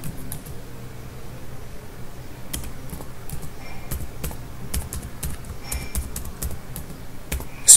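Keys clack irregularly on a computer keyboard as a command is typed, soft and close over a steady low fan hum, with no voices.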